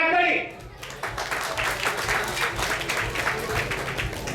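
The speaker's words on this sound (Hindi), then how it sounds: "जोरे हाथताली" An audience at an Utkal Divas celebration in a Kolkata auditorium applauds, a broad steady clapping that swells after a short lull and carries on at moderate loudness throughout.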